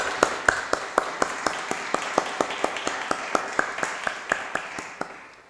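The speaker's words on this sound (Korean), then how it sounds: "우리 한 번 더 박수 한번 칠까요?" A church congregation claps together at a Sunday worship service, a steady, even rhythm of about twenty sharp claps, moderately close and fading slightly toward the end.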